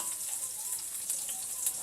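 Onion sizzling in a hot pan, a steady bright crackling hiss with scattered pops, close and continuous without talk.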